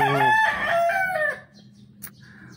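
A mother hen gives a loud, drawn-out call lasting about a second, followed by quieter clucks and a brief sharp noise, close by.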